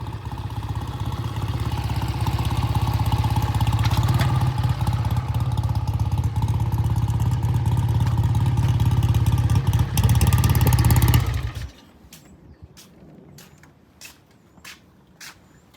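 Vintage British motorcycle engine running after repair, a loud close steady idle with rumbling exhaust for about eleven seconds, then cut off, leaving a few faint clicks and knocks.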